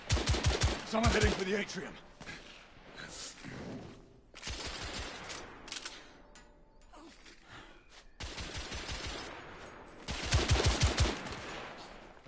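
Rifle gunfire in a video game, several bursts of rapid loud shots near the start and again near the end, with sparser shots and crackling between and a voice briefly talking over it.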